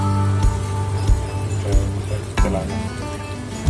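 Tinda (round gourd) barfi mixture cooks down in a pan until dry, a continuous soft sizzling hiss broken by occasional scraping knocks of stirring.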